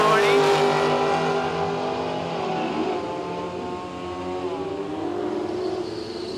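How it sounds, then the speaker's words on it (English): A Holden Gemini drag car spools up on the line at Willowbank Raceway in Australia. The engine's loud, rising tonal drone fades and settles into a steady harmonic roar, with a commentator talking over it. "As the Gemini spools it up."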